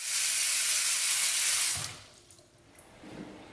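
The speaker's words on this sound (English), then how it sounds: "This faucet definitely doesn't have a water pressure issue." A bathroom faucet runs at strong pressure, a loud steady hiss of water pouring into the sink for nearly two seconds before it is shut off and drops to quieter drips and room sound.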